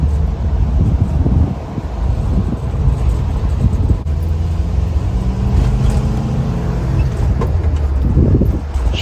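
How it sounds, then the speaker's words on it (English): A 1973 Volkswagen hightop bus driving, with a steady low engine and road rumble, loud wind buffeting and a faint rising engine tone midway, no talking. "This thing drives like a whole new bus again."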